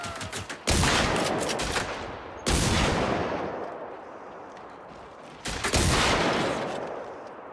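Three loud gunshot-like blasts from the video game Generation Zero, each a sharp broadband crack with a long decaying tail, spaced a couple of seconds apart, with no talking over them.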